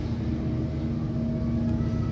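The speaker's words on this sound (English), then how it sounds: "And then there are aeroplanes that fly overhead." Aeroplane flying overhead, a steady low droning rumble with a faint hum above it, continuous and fairly distant, heard alone with no talk.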